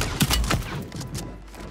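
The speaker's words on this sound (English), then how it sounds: "Hostile mortar strike near your position." Mortar strike in Call of Duty Warzone on Rebirth Island: a few heavy impacts in quick succession early on, then rumbling debris fading away, moderately loud.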